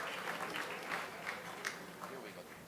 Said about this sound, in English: Give her another big round of applause, please.